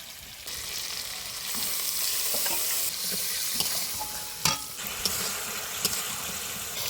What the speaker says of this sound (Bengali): কত সুন্দর কষানো হচ্ছে মশলাটা